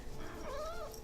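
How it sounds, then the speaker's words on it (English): A quiet, short single cat meow sounds faintly over a steady background hum in an indoor room, brief and somewhat distant. "Oh, she heard the cat?"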